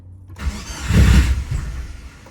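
A tuned Subaru Forester STI engine cranks and catches after a short silence, then runs with a loud, rough low rumble that swells and settles into a steadier, uneven idle.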